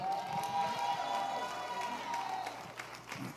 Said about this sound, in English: Come on, somebody clap for Bishop.